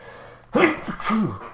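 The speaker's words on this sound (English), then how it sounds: "And I'm still sneezing." A single close, loud sneeze with a sharp intake then a forceful burst, trailing into a short follow-up exhale.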